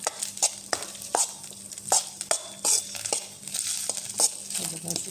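A spoon repeatedly scrapes and knocks against a pan as fragrant rice is roasted and stirred in ghee for kheer, with rhythmic stirring strokes over a soft, continuous sizzle.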